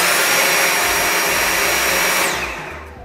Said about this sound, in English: Here's the V7 Motorhead.